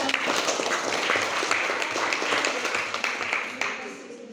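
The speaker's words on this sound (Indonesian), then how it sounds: "mari kita berikan tepuk tangan" A classroom full of people claps together in a dense, steady burst of applause lasting several seconds, fading slightly toward the end.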